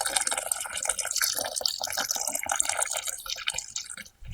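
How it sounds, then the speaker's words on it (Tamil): Beetroot juice is poured into milk while making paneer, giving a continuous splashing, trickling liquid sound close up that breaks off at the end. "பீட்ரூட் சாரை ஊத்திக்கலாம்."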